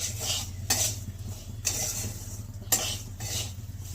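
Semolina with nuts being stirred and roasted in a pan for halwa: a steady low hum with a faint sizzle, broken by three sharp clinks of a spoon against the pan, evenly spaced about a second apart.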